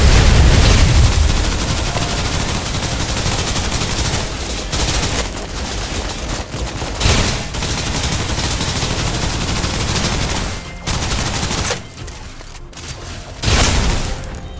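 Heavy suppressive gunfire in the video game Snowbreak: Containment Zone, a loud, dense barrage of rapid shots and booms that keeps up almost continuously, with a few short lulls before bursts resume.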